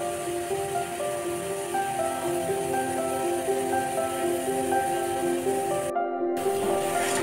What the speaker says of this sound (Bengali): যখন একটু তেল ছেড়ে আসবে তখন এর মধ্যে দিয়ে দেব নারকেলের দুধ